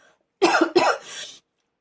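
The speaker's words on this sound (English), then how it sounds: "I'm going to cough" Two sharp, close coughs in quick succession, followed by a brief throat-clearing rasp, with silence before and after.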